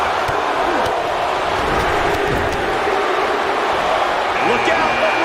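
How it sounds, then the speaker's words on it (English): Arena crowd noise during a WWE 2K19 wrestling match, a continuous roar of cheering with occasional thuds, running beneath an excited commentator's voice throughout. "Listen to this crowd."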